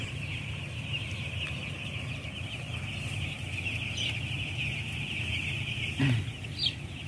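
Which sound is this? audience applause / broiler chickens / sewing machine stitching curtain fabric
broiler chickens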